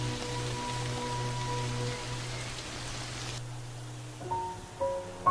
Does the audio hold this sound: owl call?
no